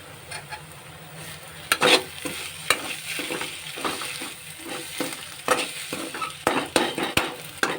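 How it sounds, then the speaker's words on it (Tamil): Egg stir-fried over a low flame, a soft steady sizzle broken by irregular spatula scrapes and taps against the pan, close and moderately loud, with no talking. "அடுப்பை நம்ம சிம்மில் வச்சுட்டு ஒரு லைட்டாக ஒரு ரெண்டு நிமிஷம் வேக விட்டு அதுக்கப்புறமா வதக்குங்க"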